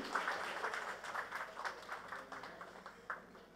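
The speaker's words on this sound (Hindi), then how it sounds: "जोरदार तालियां प्लीज जोरदार तालियां" Loud applause for a music composer called to the stage at a film success party, fairly faint and distant, a crowd clapping in uneven bursts that thin out and taper off toward the end.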